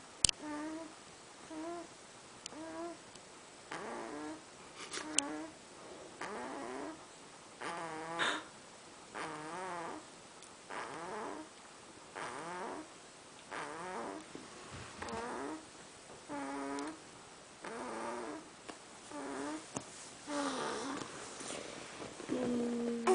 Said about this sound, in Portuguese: A minha tia não me deixa nem dormir, gente, olha. Para de roncar.